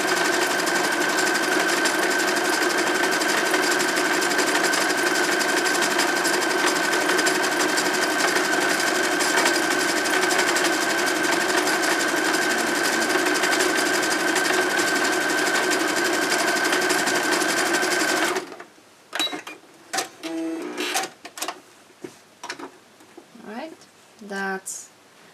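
A sewing machine stitches printed pad fabric in a long, steady, loud whirring run, then stops abruptly, followed by a few quiet handling clicks and rustles.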